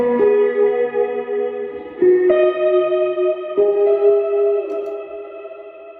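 A guitar plays slow, held notes drenched in extreme delay and a Strymon reverb ahead of a cranked Boss reverb, each note smearing into long, echoing trails that overlap and fade.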